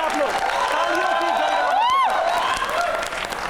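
A studio audience applauds and cheers after the Aditya L-1 solar mission launch by ISRO, a dense, steady wash of clapping with rising whoops and voices mixed in, loud throughout and easing slightly at the end.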